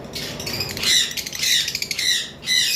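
Pet lovebirds kept for sale give repeated harsh, high squawks and chirps in uneven bursts, several birds calling close by with short gaps between calls.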